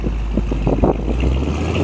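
A 1957 Chevrolet Bel Air convertible idles with a deep, steady dual exhaust rumble, close by, broken by a few short throaty pulses.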